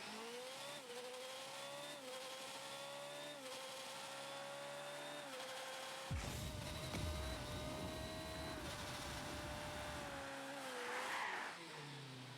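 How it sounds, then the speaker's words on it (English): A Formula One 2022 car engine in Rocket League, a steady high-pitched whine holding and shifting pitch throughout, with a loud rumbling impact about halfway through and a brief scrape of tires near the end. "So here's the engine sound real quick."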